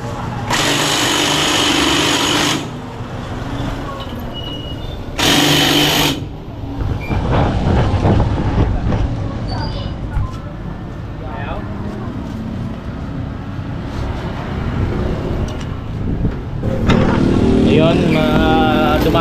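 A tricycle motorcycle engine runs and revs hard in a couple of loud bursts, then idles roughly with mechanical clatter while people talk nearby.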